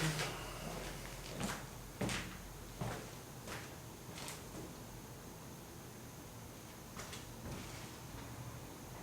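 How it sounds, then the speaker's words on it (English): A door closing inside the old Parramatta Gaol in Australia: several faint, sharp knocks and thuds scattered over a quiet background hiss, with a soft rattle between them. "I'm going to go close the door."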